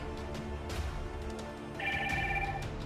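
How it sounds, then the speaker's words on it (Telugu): A Fire-Boltt Legacy Force smartwatch rings with an incoming phone call, a faint electronic ringtone with repeated tonal notes over quiet room noise, near and without speech. "ఫోన్ వస్తుంది"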